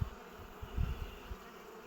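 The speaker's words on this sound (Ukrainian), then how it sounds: "І бджоли тут, ну і тут вони люті і дуже пікучі" Bees at an abandoned apiary buzz faintly in a soft, wavering hum, with a few low thuds nearby and no voices.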